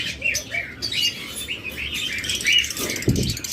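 Many pet birds, lovebirds and cockatiels kept for sale, chirping and tweeting constantly in a busy overlapping chorus, close and fairly loud, with a low thump or rustle near the end.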